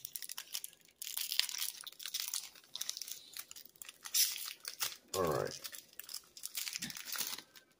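Crinkly plastic Pokémon trading card pack wrapper being crumpled and torn open, with sharp crackling bursts and a brief rip near the middle, up close.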